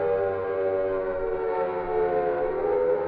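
A wailing video game siren holds a steady, droning tone with layered harmonics, loud and continuous throughout with no voices over it.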